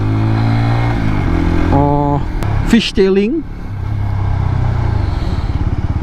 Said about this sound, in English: Man, I really love the sound. Sound is very throaty.